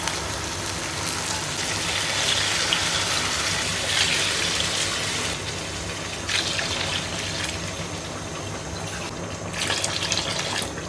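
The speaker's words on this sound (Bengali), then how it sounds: "পানি দিয়ে দিব আমি এখন।" Water poured into a biryani pot of rice and chicken, a steady rushing fill heard close and fairly loud, rising and easing slightly in waves throughout.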